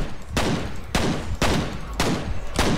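Rapid gunfire in the F.E.A.R. shooter game during a push for headshots, coming in four loud, sharp bursts spaced roughly half a second apart, each a dense crackle of shots.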